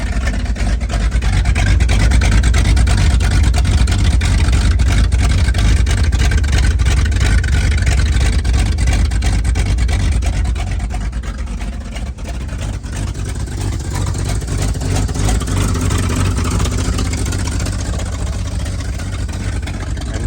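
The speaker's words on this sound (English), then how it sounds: "I got that truck right here still running." A worn-out stock truck with no cam idling after a cold start: a loud, close, continuous engine rumble with a steady low drone and broadband roar, easing slightly in level partway through.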